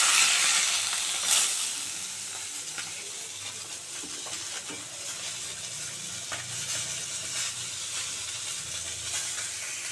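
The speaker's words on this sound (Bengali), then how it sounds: "মাছগুলো আমার ভাজা হয়ে গেছে, এবার তুলে নেব" Bhola fish frying in a pan, a soft continuous sizzle and hiss with faint crackles and a few light clinks, steady and close, with no voices.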